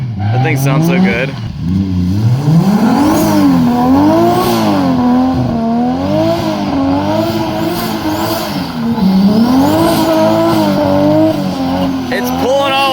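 Drag car with an angle kit launching hard on Mickey Thompson tires, its engine wailing and wavering loudly up close as a tire spins and squeals throughout.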